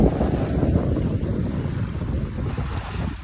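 Strong wind buffets the microphone at Dolomite Beach on Manila Bay, a steady low roar mixed with choppy surf breaking close by, continuous and fairly loud with no voices.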